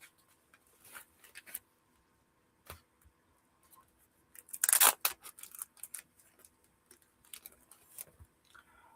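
A paper envelope opened during a Pokémon card break: a few scattered crinkles and dry taps, then a sharp tearing rip midway through, followed by quieter rustling and handling sounds, close and alone without talk.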